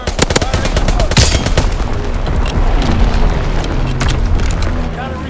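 A Call of Duty: WWII artillery strike during team deathmatch on the Shipment 1944 map unleashes loud, close booming blasts layered with rapid gunfire that carry on dense and chaotic for the whole stretch.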